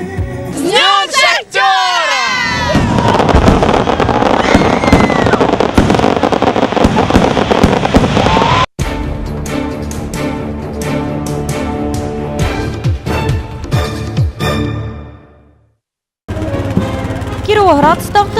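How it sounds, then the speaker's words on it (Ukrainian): Fireworks at a miners' festival celebration crackle and bang in a dense, sustained barrage, with a crowd cheering and shouting around the loud explosions. "Закінчилися шахтарські гуляння феєрверком."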